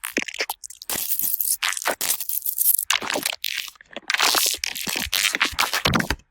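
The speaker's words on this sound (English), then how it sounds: "they have some really awesome sounds, like these glitch sounds." Harsh crunchy glitch effects stutter in rapid bursts, choppy noise blasts cutting in and out abruptly with brief silences between, loud and close.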